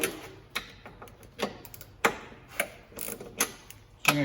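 A hand ratchet cracks loose strut tower nuts on an E36 BMW 3 Series, giving sharp separate clicks and short bursts of rapid ratcheting spread irregularly over a few seconds, close and clear.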